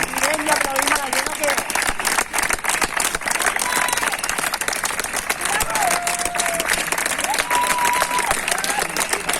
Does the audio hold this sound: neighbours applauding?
yes